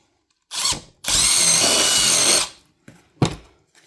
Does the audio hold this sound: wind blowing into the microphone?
no